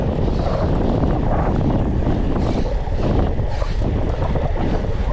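Strong wind roars in gusts while cycling outdoors near Amsterdam, loud and constant, buffeting the microphone with a dense low rumble throughout and no clear speech.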